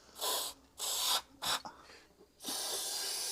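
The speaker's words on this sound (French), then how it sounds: "Ah oui, ça fait un bon jet, un bon spray." Bursts of product sprayed from an aerosol can onto the inner face of a part, several loud hissing blasts of varying length followed by a longer sustained spray.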